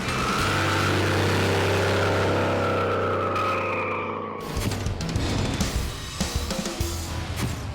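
A 1974 Ford F100 pickup engine roars loudly at high revs on a track lap with tires squealing, then the roar cuts out and fades into rattling road and wind noise.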